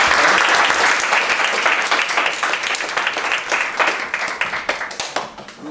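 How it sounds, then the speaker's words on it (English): A crowd claps loudly and steadily, a dense wash of applause that slowly thins into more distinct individual claps toward the end. "Give him a big round of applause."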